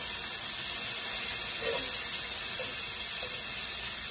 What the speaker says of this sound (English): Add my butter to the pan.